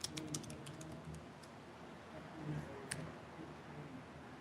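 Keys tapping on a computer keyboard as text is typed, a sparse run of light clicks over quiet room noise.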